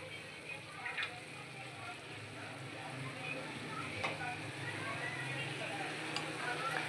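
Steamed noodles being tossed and mixed in a hot pan, a soft continuous sizzle with faint scraping and occasional light taps of a utensil, steady and close, with no talk over it.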